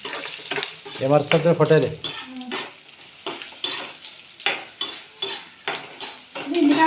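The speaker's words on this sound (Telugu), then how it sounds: "దీంట్లోనే ఒట్టి మిరపకాయలు వేసి వేయించుకుందామని." Dry red chillies and a little cumin fry in a pan for a Rayalaseema-style peanut chutney, with close sizzling and the repeated scrape of a stirring utensil against the pan, while a voice speaks briefly.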